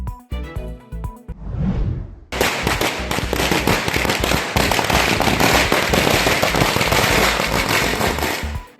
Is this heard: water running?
no